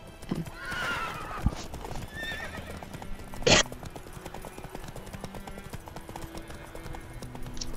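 Horse hooves clip-clop steadily through the scene in The Witcher 3 video game, with a stallion's whinny early on, a sharp snort midway and faint talk in the background.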